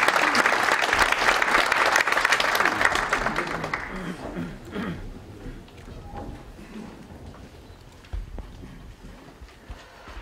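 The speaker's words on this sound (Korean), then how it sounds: "우리 박수해 주시기 바랍니다" Applause at a regular general assembly of a Korean presbytery church meeting, loud dense clapping at first that thins and fades out after about four seconds, leaving a quiet hall with scattered faint sounds.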